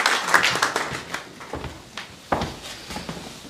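Audience applause welcoming a poet to the stage at an Urdu mushaira held at the Pakistan High Commission in London, a scattered, uneven clapping with irregular louder claps, moderately close and without speech.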